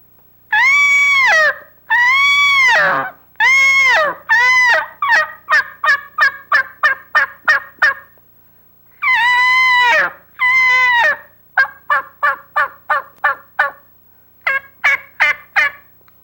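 Diaphragm mouth call blown to imitate a turkey yelp: loud, close, clear notes, first a few long drawn calls, then quick runs of short yelps, each run separated by brief silence.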